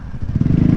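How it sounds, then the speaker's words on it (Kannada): A superbike passes close by on a road, its engine a loud, throbbing low rumble pulsing rapidly over a brief moment. "ಸೂಪರ್ ಬೈಕ್ ಬಂತು."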